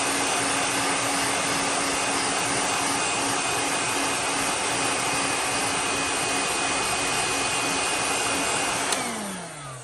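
A heat gun blows hot air to set the paint on a custom-painted fishing lure, a loud steady roaring whine close by that winds down at the very end.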